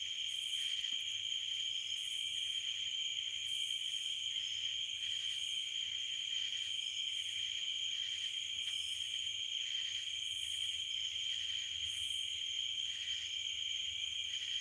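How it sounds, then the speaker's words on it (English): Cicadas and crickets chirping outdoors at night on a farm, a steady, continuous high-pitched pulsing drone from several layered insect calls, moderately faint and unbroken throughout, with no talk. "those are cicadas and crickets"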